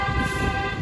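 A car horn on a street in Dumaguete near the boulevard gives one steady, loud, close honk lasting under a second, with traffic rumble beneath.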